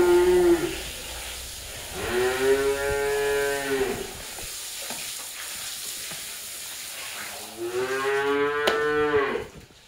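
Cattle at a livestock sale in Gokul, Bogura, moo in several long, drawn-out calls: one brief low call at the start, a longer one after a pause, and another loud moo near the end, with quieter rustling between.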